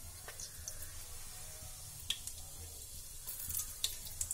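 Cumin seeds sizzling in hot mustard oil in a pan, a steady soft crackle close by with small scattered pops and spits.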